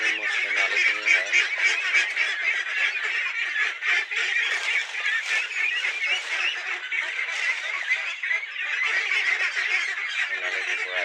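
Ducks or geese honk continuously while feeding, a dense, overlapping chorus of nasal calls close by that keeps up for the whole stretch with no talk.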